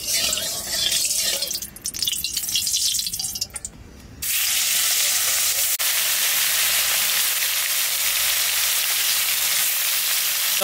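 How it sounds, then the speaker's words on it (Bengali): Pond fish fry in hot oil for a Bengali rainy-day khichuri meal. Uneven sputtering gives way after a few seconds to a loud, continuous close sizzle. "মাছটা ভেজে নেবো,"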